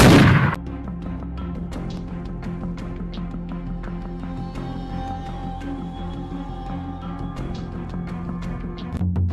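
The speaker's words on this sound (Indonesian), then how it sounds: "Dengan terdengarnya suara tembakan" A loud boom at the start followed by a dense, continuous rattle of gunfire and bursts, like a battle scene with a steady rumbling backdrop, from a school reenactment of the Hotel Yamato incident in Surabaya.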